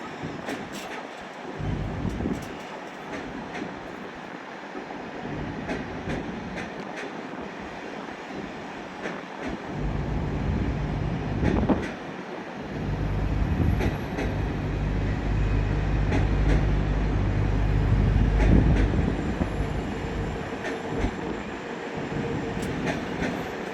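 Trains rumbling through London St Pancras International station, on both high and low level lines, a steady rolling drone with heavy low rumble that swells louder in the second half, carriages passing near with station ambience throughout.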